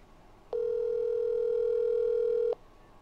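A steady telephone dial tone sounds for about two seconds, loud and constant, with a clean start and stop and nothing else around it.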